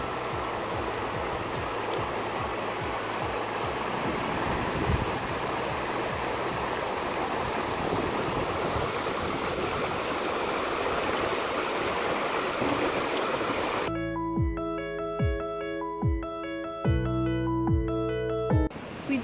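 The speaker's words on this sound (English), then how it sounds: "Just got to the little set of rapids that we were talking about." A small set of river rapids on a Haliburton Highlands lake-loop paddling route rushes as a steady broadband roar, near and continuous, before an abrupt cut to musical tones near the end.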